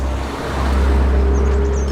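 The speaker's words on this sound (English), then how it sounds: "as soon as I start filming, cars are driving through." A car drives past on a road near a church in a quiet spot in Plymouth, a steady engine and tyre rumble that swells slightly as it passes, with breezy wind noise underneath.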